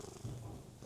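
A cat purring softly and close, a faint low rumble lasting under a second against quiet room noise.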